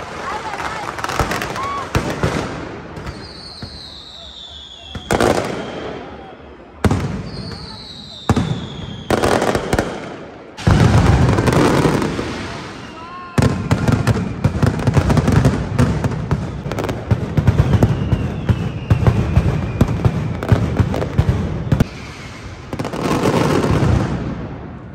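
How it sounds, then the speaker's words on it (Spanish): A mascletà firecracker display at the Fallas in Valencia erupts in loud, rapid volleys of bangs, crackles and whistling rockets, broken by brief lulls and building to dense rhythmic barrages. "Lo que acaban de escuchar se llama la mascleta, que es un disparo pirotécnico con una composición ruidosa y rítmica"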